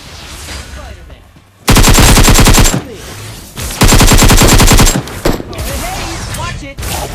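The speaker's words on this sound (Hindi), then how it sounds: "उसी टाइम इसका टीममेट हमारे ऊपर सामने से गोली चलाता है" Automatic rifle fire from the Battlegrounds game erupts in two loud, rapid bursts of about a second each, with quieter scattered shots and ambient game noise around them.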